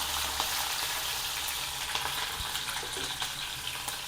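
Garlic and green chilies fry with curry leaves in hot oil for jhunka, giving a constant close sizzle with small crackles and occasional stirring taps, no voices.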